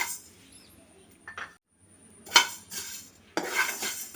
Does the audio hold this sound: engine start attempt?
no